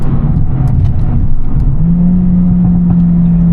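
A 421-horsepower Mercedes-AMG A45s engine revs while driving, a loud, close rumble that sharpens into a steady rising whine partway through, with no talking.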